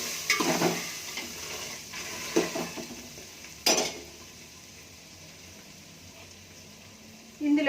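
A spiced mixture with fresh lemon juice squeezed in is stirred in a hot pan for kaaram burugulu, with spoon scrapes and clinks over a soft sizzle, near and moderate.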